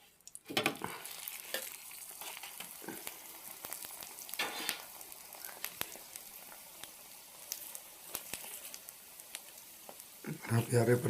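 A radish-stuffed paratha fries on a griddle as ghee is spread over it, giving a faint, steady sizzle broken by sharp pops, scrapes and taps, with soft talk in the background.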